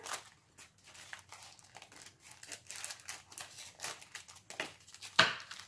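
Tissue paper from a box of Easter craft products crinkles and rustles in irregular close bursts while it is handled during unboxing, ending in one sharp louder crackle; quiet, with no voices.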